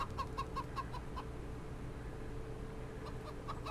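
Chickens cluck in a video game, short repeated clucks over a steady low in-game ambient hum, moderately quiet with no talking.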